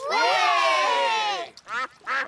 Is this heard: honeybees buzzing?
no